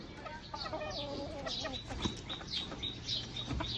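Chickens cluck repeatedly at close range, with short overlapping calls and soft chirps from several birds, over a faint ambient hum.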